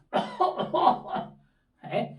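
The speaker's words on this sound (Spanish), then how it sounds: "Sabemos que hay que toser porque es inevitable a veces" A voice coughs in a series of short bursts, close to the listener, then pauses before one more cough.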